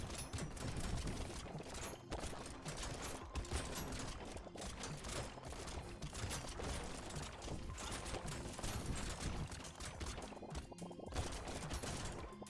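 A turret in the video game Brotato fires on an elite enemy, a dense, continuous clatter of rapid shots and impacts that stays busy and fairly quiet throughout, with no voices.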